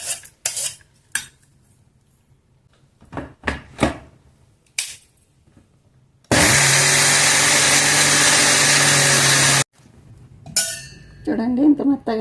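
A kitchen wet grinder loudly grinds soaked urad dal and rice into dosa batter in one steady roar of about three seconds, preceded and followed by clinks of utensils and a voice speaking.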